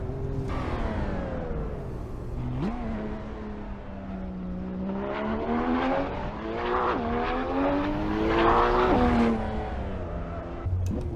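Race car engine from the Assetto Corsa racing game climbing the Pikes Peak hill course, droning and revving steadily with pitch rising and falling through gear changes, loud and continuous throughout.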